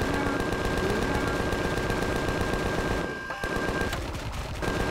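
Sustained automatic gunfire from the Empyrion space survival game during a drone base fight, a dense continuous rattle of rapid shots running nearly the whole stretch with a brief dip partway through.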